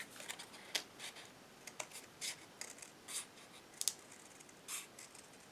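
Scissors trim cardstock for a handmade paper card easel, making a run of crisp, close snips and rustles in an uneven rhythm with no talking.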